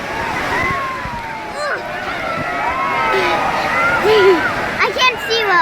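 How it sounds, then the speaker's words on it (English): Waves rolling through the wave pool at Universal Volcano Bay water park, a continuous broad wash of surf under people talking and shouting nearby. "Come the big waves."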